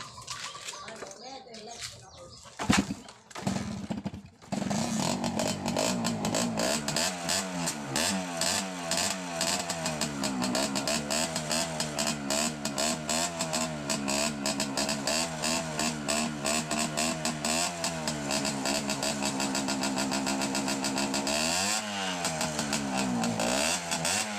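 After a brief scuffle, an old small motorcycle engine, unused for over ten years, sputters to life and keeps running loud and close, chugging steadily with occasional revs.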